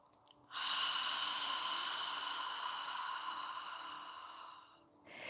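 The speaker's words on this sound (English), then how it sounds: "Just inhale and exhale." Slow, steady breath drawn and released through the nose during a calm yoga session, a soft airy hiss lasting several seconds, close and quiet with no talking.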